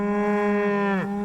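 A single cow on an Idaho ranch gives one loud, close, sustained moo that bends downward at the end, heard alone.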